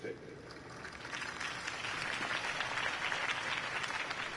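Sustained applause from a large crowd in a PS4 video game, broad and steady, swelling slightly after the first second and holding at an even, fairly loud level.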